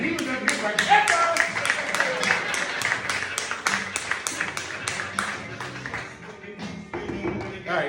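Comedy club audience claps for a comedian in a steady, rhythmic beat, close and fairly loud, with a voice talking over the clapping.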